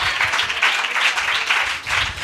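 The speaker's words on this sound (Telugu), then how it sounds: "గట్టిగా చప్పట్లు కొట్టి ప్రభు నామాన్ని కనపరచండి" A church congregation at a purification gathering in Vijayawada claps loudly and steadily, with a dense wash of hands that pulses in a quick, regular rhythm throughout.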